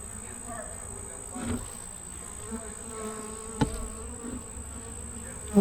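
Honeybees from a weak, very small hive colony hum in a low, continuous buzz close by, with a few soft knocks and bumps against the frame.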